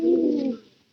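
A single soft, close coo from a domestic pigeon kept in a home loft, rising briefly and fading away within a second.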